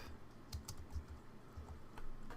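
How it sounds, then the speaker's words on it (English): Keystrokes on a computer keyboard while coding an Android app, a quick uneven run of clicks close to the microphone over a low steady hum, with no talking. "So we're just going to scroll up and type"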